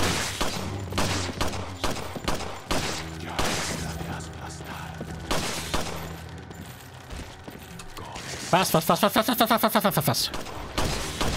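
Pistol shots in Resident Evil 4, a series of sharp game gunshots mixed with combat sounds and a quick burst of rapid fire near the end, with a voice speaking over parts of it.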